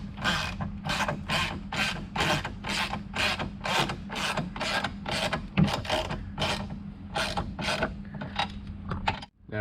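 Steady rapid clicking of a ratchet wrench snugging a nut on a bracket during an oil separator install on a Ford Bronco Raptor, about sixteen evenly spaced close-up ratcheting bursts.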